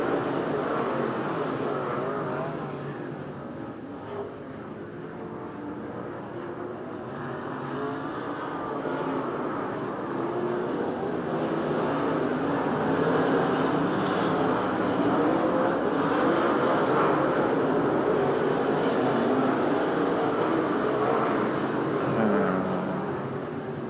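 Race cars roar around a dirt track in a continuous, loud wash of engine noise that swells and fades as the field laps, with a distant announcer's voice faintly underneath.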